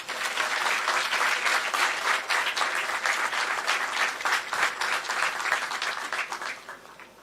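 An audience breaks into loud, sustained applause welcoming Punjab chief minister Bhagwant Singh Mann at a government appointment-letter ceremony, dense clapping that holds steady and then tapers off at the end.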